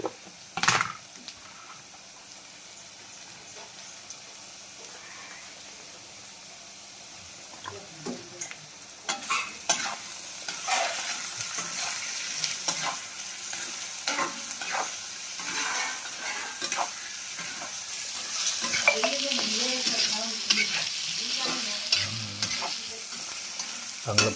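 Dal is sautéed and stirred in a pan in a village kitchen. Scraping spatula strokes come in irregular bursts over a gentle sizzle that grows louder and busier toward the end.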